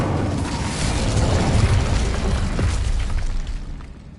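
An Incendio fire spell cast in Hogwarts Legacy, a loud roaring whoosh of flame and rumble that swells then fades over a few seconds, with no talking.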